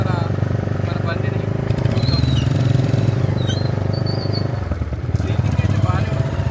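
Royal Enfield motorcycle on a test ride, its engine thumping steadily in a low continuous rumble with faint squeaks over the top, and the riders talking over it throughout.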